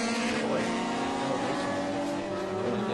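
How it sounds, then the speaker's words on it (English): Onboard a Mitsu Oil Mazda RX-8 touring car at a race start, its rotary engine droning loud and steady as it accelerates, with a commentator's voice running over the top. "Now we're on board Michael McCulligan's Mitsu Oil Mazda RX-8, and he gets a pretty good start."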